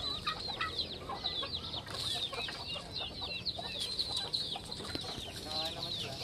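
Chickens and turkeys on a poultry farm cluck and chatter continuously, a dense flock close by with overlapping calls throughout.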